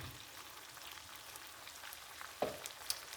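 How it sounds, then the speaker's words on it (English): Food fries over high heat in a pan, giving a soft, continuous sizzle with faint crackles and a couple of brief louder pops near the end, with no talking over it. "You want it higher because you want this to fry real quick"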